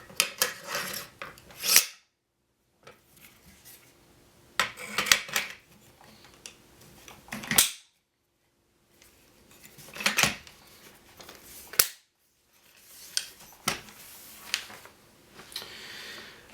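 Metal parts of a DPMS LR-338 rifle being reassembled, with sharp clicks, snaps and sliding scrapes in scattered clusters separated by quiet gaps, close and fairly loud.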